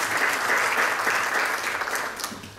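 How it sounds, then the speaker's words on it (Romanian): An audience at a business conference applauds a speaker being introduced, dense sustained clapping from many hands that tapers slightly toward the end. "Vă rog în aplauze,"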